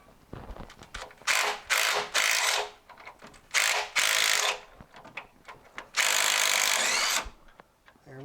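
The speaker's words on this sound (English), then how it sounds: "I'm going to use this smaller impact now that I've got it busted loose" A small impact wrench with a 13/16 socket hammers in three loud bursts, separated by short pauses, while loosening the crankshaft dampener bolt on an inline-six 200 CID engine.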